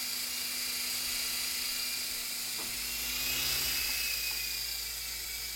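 Tiny E-flite Blade mcX radio-controlled helicopter hovers and then flies around, giving a constant thin electric whine with a brief low thump partway through, fairly close.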